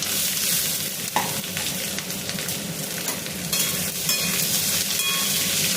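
Potatoes tossed into hot oil in a kadai with dried red chillies, bay leaves and five-spice seeds, giving a steady, dense sizzle and crackle that runs throughout, with a brief clatter near the start.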